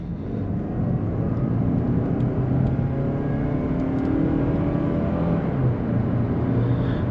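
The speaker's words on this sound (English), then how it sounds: "I'm gonna give it a little bit of acceleration right here from 30" A 2021 Mazda CX-30 Preferred with 35k miles accelerates from 30 mph, a steady engine drone and road rumble rising gently and continuously throughout, heard close from inside the cabin with no talk.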